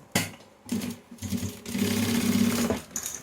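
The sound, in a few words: sewing machine stitching a waterproof toiletry bag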